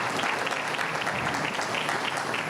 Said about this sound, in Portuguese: a quem eu quero pedir uma salva de palmas para ele também